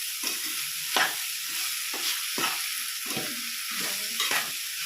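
Jackfruit peel curry is stirred in a hot pan over a steady hiss of frying, with a spoon scraping the pan in regular strokes roughly every second, close and clear with no speech.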